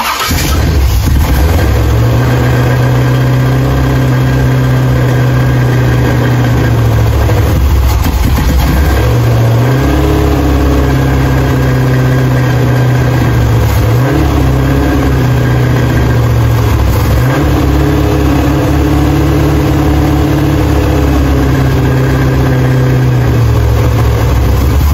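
A 1968 Chevrolet Impala with a 454 big-block V8, fresh from head gasket replacement, cranks and then idles loud and steady with a deep, lumpy rumble, dipping briefly a couple of times before settling.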